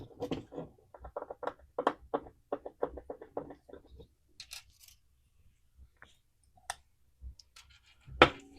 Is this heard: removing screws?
yes